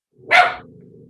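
A single sharp dog bark, close and loud, with a short fading tail and a low rumble after it.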